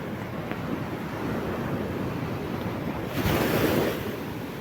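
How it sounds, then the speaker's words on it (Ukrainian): Rough surf of the sea at Salalah, Oman crashes and churns continuously, with gusting wind noise over it and a louder wave breaking near the end. "Дуже буйне море, нормально не поплаваєш зовсім"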